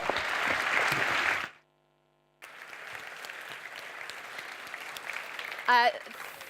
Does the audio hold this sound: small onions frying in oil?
no